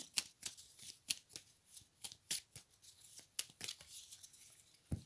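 A deck of tarot cards is shuffled and cut with quick, crisp riffles and flicks in a rapid irregular rhythm, close and soft.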